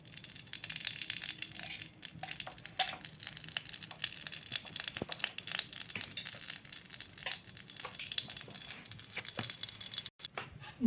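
Ghee heats in a hot wok (kadai) as a steady, faint crackling sizzle with scattered small pops, continuing evenly throughout and heard up close without talking.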